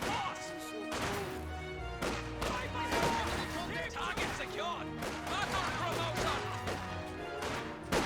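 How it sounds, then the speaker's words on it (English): Conscripts trade rifle fire with Volksgrenadiers in a Company of Heroes 2 battle: a steady mix of cracks, thuds and distant gunfire under a busy soundtrack, with no clear pauses. "Over here, conscripts firing away against the Volks Grenadiers."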